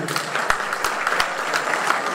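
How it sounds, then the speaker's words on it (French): Guests at a wedding reception clap for the bride, a fairly loud ripple of applause with a few sharp, distinct claps standing out from the steady patter. "Je voudrais des applaudissements, dames et messieurs."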